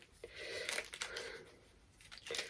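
A stack of paper prompt cards is shuffled by hand, making soft, quiet riffling and crinkling rustles in short uneven bursts.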